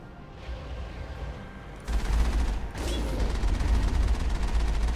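Turret gunfire erupts in a sci-fi shooter game, a dense mechanical burst of rapid shots kicking in loudly partway through and continuing over low rumbling ambience.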